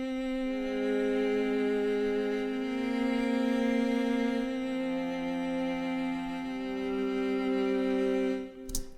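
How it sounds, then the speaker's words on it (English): A homemade box cello, sampled as a Kontakt instrument, plays long sustained bowed notes that shift pitch a few times, smooth and close, ending with a brief click. "The box cello on its own sounds like this"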